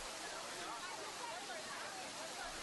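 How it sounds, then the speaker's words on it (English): San Die Chuan, a three-tier waterfall on Mount Lushan, roars in a dense, unbroken rush of falling water that stays steady and fairly strong throughout, with no talking. "the most unusual one is San Die Chuan waterfall in Ulao Peak."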